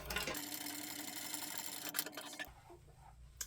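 A sewing machine stitches a handbag seam at a quarter inch, running in a fast, steady whir for about two and a half seconds before stopping abruptly, with faint handling noise afterward.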